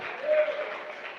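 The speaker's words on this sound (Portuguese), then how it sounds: "Aplauda o Senhor, aplauda o Senhor. Oh, já, dá um aplauso melhor aí." Church congregation clapping in worship, a brief, even burst of applause with a voice faintly blended in.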